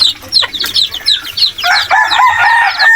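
Native chickens and their chicks fill the air with close, loud clucks and high chirping peeps, overlapping continuously with a rooster-like call mixed in.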